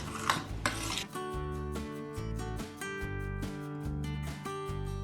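A spoon stirs cookie dough ingredients in a bowl, giving soft scraping strokes and a few clinks against the bowl over a faint steady background, quiet and close, with no speech.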